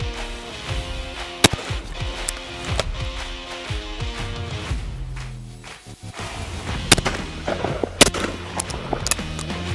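Shotguns fire at driven game birds, giving several sharp, loud cracks spaced irregularly over a busy tonal background, with a brief lull in the middle.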